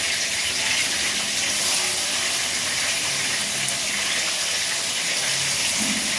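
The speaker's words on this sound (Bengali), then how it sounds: "এবার চিংড়িটা ভেজে নেব" Prawns frying in hot oil, giving a loud, dense, continuous sizzle and crackle close by that stays even from start to finish with no talking.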